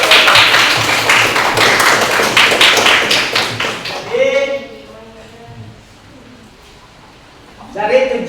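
A classroom of students claps hands together during a lesson game, a dense burst of many overlapping claps for about four seconds that then stops, followed by quieter speech and another short flurry near the end.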